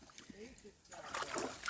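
A dog splashes about in a small muddy puddle near an old rail station outhouse, with soft sloshing and splashing at close range, growing louder toward the end, with a voice briefly heard.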